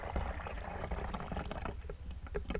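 Coconut water is poured into a fermentation bottle in a steady, quiet gurgling stream that trickles and splashes continuously, with a few sharper drips toward the end.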